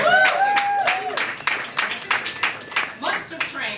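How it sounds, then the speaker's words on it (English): An audience at a Saucony press conference with marathon runners claps together, a dense burst of applause that thins into scattered, uneven claps over a few seconds. "All right, give them a round of applause."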